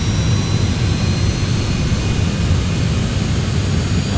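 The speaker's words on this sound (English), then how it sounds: "And engines are starting." Citation X business jet engines spooling up at startup in a flight simulator, a steady loud roar with a rumbling low end and a thin high whine throughout, no talk.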